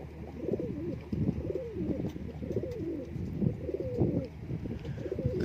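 Pigeons coo in a steady series of soft, throaty, repeated calls close by, continuing throughout with a low background hum and no clear talk.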